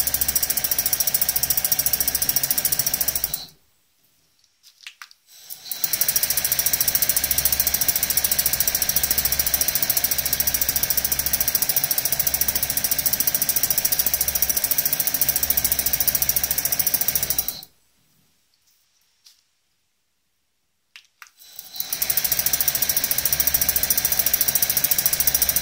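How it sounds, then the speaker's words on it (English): A TW140 coil winding machine winds 0.25 wire at about 900 turns per minute, giving a steady mechanical whirring drone that stops twice and then starts again. "The machine is running nearly by 900 turns per minute."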